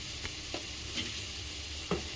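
Onions frying in oil in a pan for egg biryani, a steady soft sizzle with a few light stirring scrapes, close and fairly quiet throughout.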